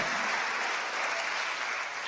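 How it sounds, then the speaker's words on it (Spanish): A church congregation claps together during a sermon, a continuous, even burst of applause filling the room for about two seconds. "Démosle palmas al Señor, hermano."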